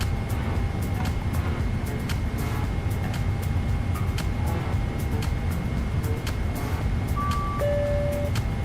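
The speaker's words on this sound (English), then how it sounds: "There it goes, that little beep." A short electronic beep sounds from a Boeing 777 freighter flight simulator cockpit as a route request arrives, a brief high tone near the end over a steady, loud engine and cockpit hum.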